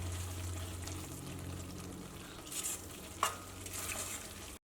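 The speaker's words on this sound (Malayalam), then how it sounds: "ഇതിലേക്ക് ഇഞ്ചിയും വെളുത്തുള്ളിയും കറിവേപ്പിലയും ചേർക്കാം." Ginger, garlic and curry leaves dropped into hot oil for an egg pepper roast, a soft continuous sizzle with stirring scrapes and a brief louder crackle near the end, close but fairly quiet.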